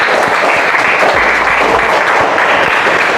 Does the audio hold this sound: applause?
yes